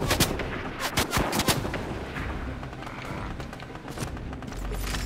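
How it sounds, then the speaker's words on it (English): Rapid bursts of automatic gunfire from Sloan, a hostile NPC in Fortnite, crackle loudly and close in a dense cluster early on, then thin into scattered shots over a steady background rumble. "now Sloan's shooting me!"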